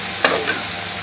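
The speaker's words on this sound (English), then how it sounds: "And you have to keep on mixing it." A spiced potato bajji mixture is stirred in a pan over heat, giving a short scrape of the spoon against the pan over a soft, steady sizzle.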